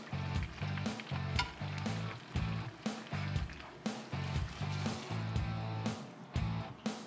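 Shrimp seasoned with salt and pepper sizzling and crackling hard in a hot pan, steady loud frying with bursts of spatter and a low rhythmic clatter of the pan, no voices.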